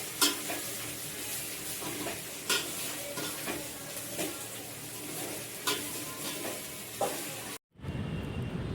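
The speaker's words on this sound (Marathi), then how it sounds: "भाजी मिक्स करून झाल्यानंतर शेवटचा टप्पा म्हणजे भाजी फोडणीला द्यायची।" Wild bhaphali greens are tempered in a hot pan: a steady sizzle of frying runs beneath repeated scraping stirs, roughly once a second, close and clear, before a brief cut near the end.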